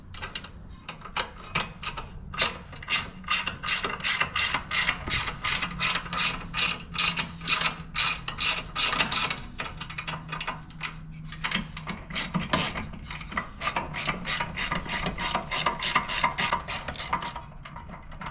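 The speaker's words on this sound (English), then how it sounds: "I'm going to get a ratcheting wrench, makes life easier." A ratcheting wrench working on a Harley-Davidson motorcycle exhaust, a long Sawicki Speed system, clicks in rapid, steady bursts, close and crisp, pausing briefly between runs of pawl chatter over a quiet room.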